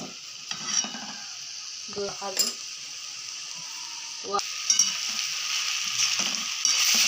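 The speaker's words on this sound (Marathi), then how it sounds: "अशी सगळीकडे व्यवस्थित मिक्स करून ही अशी मेथीच्या भाजीसाठी परतून घ्यायची छान" Taroda (wild leaf) bhaji being stirred and sautéed in a pan, a steady soft sizzle running throughout with a few scraping strokes of the spoon against the metal, close and fairly quiet.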